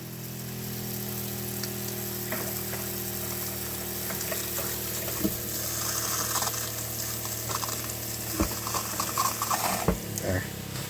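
A motorhome's water pump hums steadily with water rushing and splashing, a continuous mechanical drone under intermittent clanks and faint voices.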